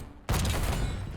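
A frag grenade in a video game goes off suddenly after a brief quiet, a loud, sharp boom that settles into a rumbling, crackling tail, with no talking.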